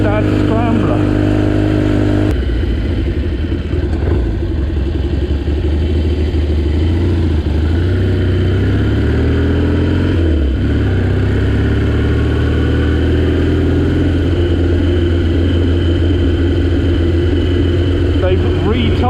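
Classic Triumph scrambler motorcycles riding off-road, a steady loud engine drone that shifts in pitch as the bikes accelerate and ease off, with someone talking over it throughout.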